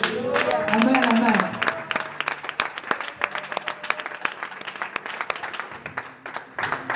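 A church congregation applauding, dense clapping that thins into scattered claps with a preacher's voice speaking over it and distant crowd murmur.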